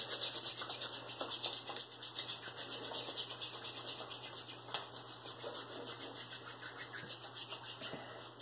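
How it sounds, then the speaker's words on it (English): Hair product is rubbed between two hands in a steady, quick swishing rhythm, close and fairly quiet, with no talking. "Rub it into your hands pretty good."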